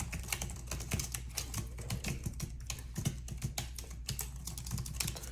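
Rapid, steady key clicks from typing on a slim Logitech K470 keyboard, soft and close with a fairly quiet action, continuing without pause and with no talking.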